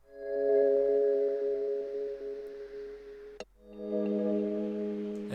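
Sustained synth pad chords pumped by a ShaperBox sidechain volume swell, rising and falling smoothly with a brief click midway, soft and alone.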